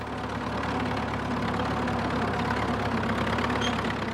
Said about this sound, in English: He bought this Fordson Dagenham tractor way back in 1937, brand new.